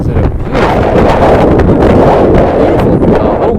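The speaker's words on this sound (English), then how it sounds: "A little windy though" Strong wind gusting across an exposed mountain ridge, buffeting the microphone with loud continuous rumbling and roaring.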